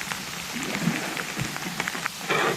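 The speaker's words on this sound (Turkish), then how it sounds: "Yağmur başladı" Rain falls at a seaside campsite at Çaçate Koyu near Marmaris, making a steady close patter on surfaces with scattered louder drops, and it swells heavier near the end.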